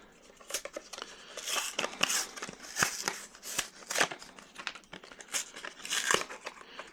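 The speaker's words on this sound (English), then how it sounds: "Pretty easy packaging to get into." Crinkly plastic packaging around an Ozark Trail knife is torn and crumpled open, a steady run of sharp crackles, rips and rustles up close with no voices.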